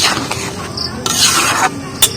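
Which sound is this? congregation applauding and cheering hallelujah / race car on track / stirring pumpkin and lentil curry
stirring pumpkin and lentil curry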